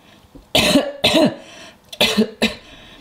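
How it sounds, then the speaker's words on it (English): A young boy coughs in four separate bursts, each a short hacking fit with pauses between, close and fairly loud. "I can hear you coughing."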